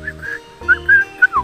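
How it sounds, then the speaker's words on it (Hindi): A bird whistles sweet, bright notes outdoors, several short rising and falling phrases separated by brief pauses, moderately close, with a low steady hum underneath. "कोई तो सीटी मार रहा है, कौन सा बर्ड है क्या पता, पर बहुत स्वीट आवाज है।"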